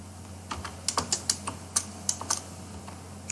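Keys on a computer keyboard clack in short irregular bursts while C code is typed, close and clear, with no talking.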